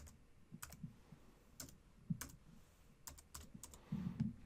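Short bursts of typing on a computer keyboard while entering a web address, scattered quiet key clicks with small pauses, faint and close.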